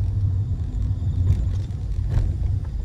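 A car rolls past on a rural road in Java, a steady low rumble of engine and tyres that swells slightly mid-pass and stays fairly close throughout, with no talking.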